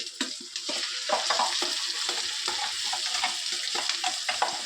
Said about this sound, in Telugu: ఇప్పుడు మనం మిక్సీ పట్టింది వేయాలండి టమాటా ప్యూరీ